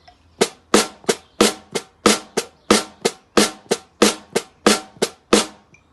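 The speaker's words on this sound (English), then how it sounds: "Right, that's how you do the snare." A close, loud snare drum played in a steady groove: about sixteen crisp, cracking strokes in an even rhythm, with quieter on-beat taps alternating with stronger offbeat hits, no voices.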